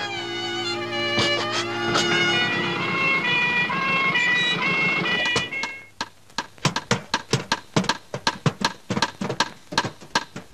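Ambulance siren wailing loud and steady with a rising and falling pitch, cutting off abruptly midway and followed by a rapid series of sharp percussive hits in a dramatic film scene.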